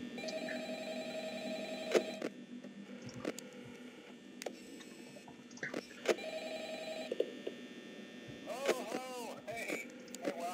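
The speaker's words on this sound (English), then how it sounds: "Oh, the phone guy's actually going to ring me now." A phone rings in the Five Nights at Freddy's video game, with repeated tonal rings over a quiet hum and a voice talking at moments.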